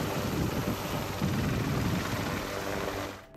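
AH-1Z Viper attack helicopter with a four-blade bearingless composite rotor, a loud, steady rotor and engine roar that holds throughout and then drops off abruptly at the very end.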